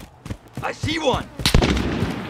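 Gunfire in Call of Duty Modern Warfare during team deathmatch: sharp close shots, brief bursts mixed with in-game voice callouts.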